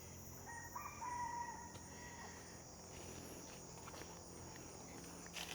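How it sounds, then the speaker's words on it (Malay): A rooster crows faintly in the distance over a steady background of chirping insects at Bukit Brown cemetery. "Itu ayam."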